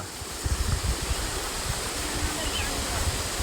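Water of a mountain stream pours past close by on a hillside path, a constant broad rush with low, bumpy rumbles of wind buffeting the microphone.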